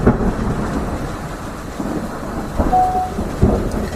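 Thunder rumbles low and continuous beneath steady rain, with a few louder swells, forming a dense stormy wash throughout.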